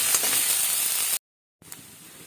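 Onions fry in a hot pan for an Assamese eel curry, giving a steady close sizzling hiss that cuts out briefly and then resumes more softly.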